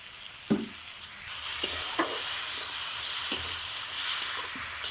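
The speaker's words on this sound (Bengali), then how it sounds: "ভালো করে মশলাগুলো কষিয়ে নিতে হবে" Spices such as turmeric, salt, chili powder and sugar sizzle and hiss steadily in hot oil in a pan, with a few sharp scraping stirs of a spoon breaking through the continuous frying noise, close and fairly quiet.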